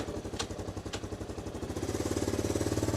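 Engine of a 1984 Honda ATC200ES Big Red three-wheeler pulling from a standstill in third gear, a close, lumpy single-cylinder chug with regular pulses that quicken and grow louder near the end, with no talking over it.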